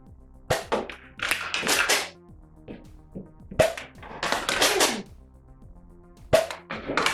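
A Nerf Rival Heracles XIX-500 blaster fires foam balls in a series of sharp snapping shots with hard thwacks of impacts on targets, bursts spaced by short pauses at close range.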